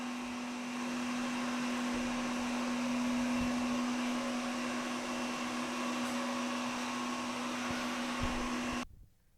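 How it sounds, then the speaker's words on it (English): A Samsung Powerbot R7040 robot vacuum runs on hardwood floors with a steady, moderately loud motor whine and airy suction hiss that holds constant, then cuts off abruptly at the end. "As far as noise level on this vacuum, I wouldn't say it's too loud."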